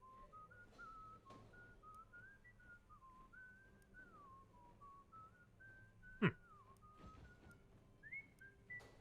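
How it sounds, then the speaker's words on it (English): A wandering, tuneful whistled melody from the game Shadows Over Loathing, soft and continuous over several seconds, with a single sharp click partway through. "Whistling."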